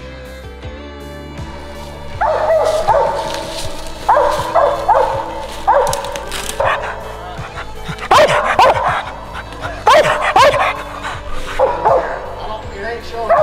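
Hunting dogs bark and yip repeatedly at a treed squirrel during a competition squirrel hunt, the barks close and loud in uneven bursts while people talk over them.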